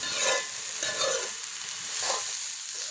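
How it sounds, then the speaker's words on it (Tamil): Adamant creeper (pirandai) sautéing in cold-pressed sesame oil gives a steady, close hiss of frying with a few soft stirring scrapes, with no voices. "நன்றாக வதக்கிக் கொள்ளவும் நல்லெண்ணெயில் சுத்தமான செக்கு நல்லெண்ணெய்"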